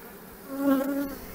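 Honeybees buzz steadily inside an open hive full of nectar during a late-autumn honey flow, a close, droning hum that swells in the middle and stays alone without voices.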